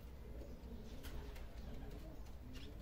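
A pigeon coos softly in a quiet setting, low throaty calls over faint background noise, with no clear speech.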